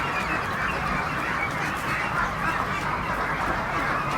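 A chicken clucks amid a dense flock of young ducks on a Ugandan duck farm, continuous overlapping bird chatter, close and busy without talk.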